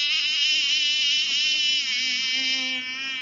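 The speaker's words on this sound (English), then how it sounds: "The mosquito goes." A mosquito's whining buzz, a thin continuous high-pitched drone that stays close and steady for the whole stretch, slightly wavering in pitch.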